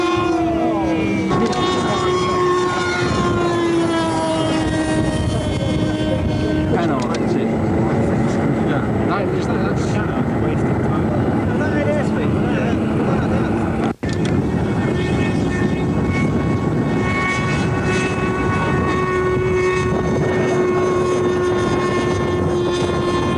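A ducted fan model aircraft powered by a Super Tiger 45 engine attempts a takeoff, its loud steady high-revving whine with shifting harmonics holding for the whole stretch, close by, and a voice speaks over it.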